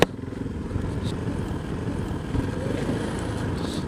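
A KTM 390 Adventure motorcycle ridden off road, its engine droning steadily close up under heavy wind noise, with no pause.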